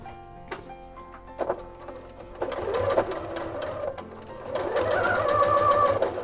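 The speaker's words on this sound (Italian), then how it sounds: "se io voglio farlo cucire devo spingere" A sewing machine stitching 2 mm EVA foam, a close mechanical whir with a steady rhythmic needle chatter that builds from hesitant starts into continuous running.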